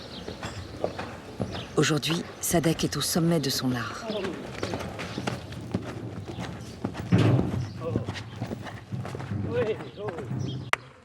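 Horse hooves clatter in the background of an equestrian circus acrobatics (trick riding) session, with irregular clip-clop steps running beneath an adult talking over them.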